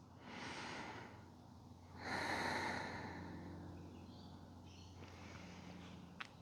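Slow, deep breaths during a neck and shoulder stretch, two long airy exhales close to the microphone with a quiet pause between them, then a small click at the end.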